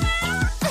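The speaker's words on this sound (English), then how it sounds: "A kitty." A cat meows clearly three times in quick succession, close and loud, each call rising and falling in pitch.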